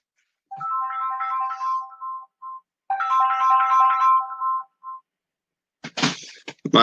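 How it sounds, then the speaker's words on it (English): A mobile phone ringtone plays two loud melodic bursts during a tax webinar, followed by handling clatter as the phone is silenced. "My apologies, that was my phone."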